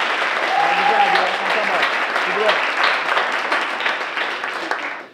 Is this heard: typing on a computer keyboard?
no